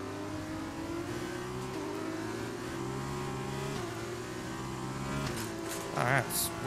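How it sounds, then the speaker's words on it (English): Formula 2 car in F1 2020 on the Austria circuit, its engine droning steadily at high revs with layered harmonics as the wheels spin in fourth gear, loud and continuous, with a brief rising rev burst near the end. "Wheel spinning in fourth."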